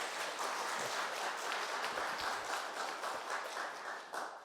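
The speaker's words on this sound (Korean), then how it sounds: "한번 환영의 박수 한번 드리겠습니다" Welcoming applause from a church congregation during a worship service, a soft, distant, continuous patter of many hands clapping.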